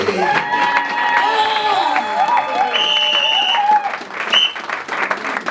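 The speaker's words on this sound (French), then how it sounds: "Clap your hands to Jesus, please." A church congregation claps and cheers during a lively worship service, a steady wash of applause with whoops and voices rising over it, loud and continuous throughout.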